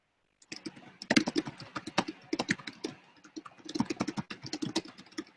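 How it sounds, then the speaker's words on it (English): Rapid, uneven typing on a computer keyboard fills the moment, a close stream of crisp clicking keystrokes with brief pauses between bursts and no talking. "So let me type that in chat."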